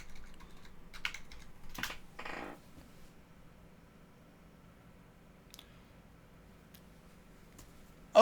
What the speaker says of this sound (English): you type in the thing you want to search for